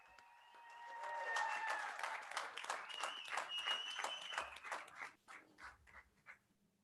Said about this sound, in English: I hand a round of applause for these fine young men